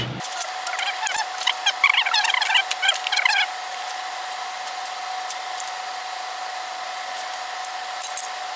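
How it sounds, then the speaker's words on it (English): An electric drill whines at a steady pitch, with squealing, chattering bursts early on as the bit grinds into a metal B-pillar repair panel on an International Scout II. "I'm going to run over and drill those holes for the plug welds"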